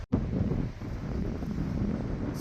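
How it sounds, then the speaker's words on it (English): Strong wind buffets the microphone at a mountain campsite beside a reservoir, a steady loud broadband rush with gust swells across the clip and no talk. "It's super windy"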